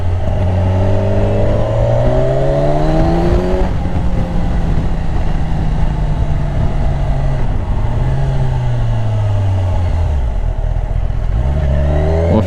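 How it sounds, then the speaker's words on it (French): Kawasaki Ninja 1000 SX four-cylinder motorcycle engine, loud and close, revving and then winding down under engine braking as the pitch falls in long smooth sweeps, with a brief rise again near the end. "Le frein moteur c'est un peu inexistant sur les 4 cylindres"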